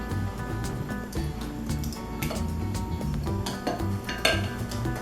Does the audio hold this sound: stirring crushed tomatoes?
yes